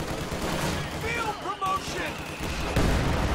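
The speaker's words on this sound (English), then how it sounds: "He's getting shredded by that Maxim." A Maxim machine gun firing in a Company of Heroes 2 battle, rapid crackling bursts amid dense gunfire and explosions, with shouting soldier voices mixed in.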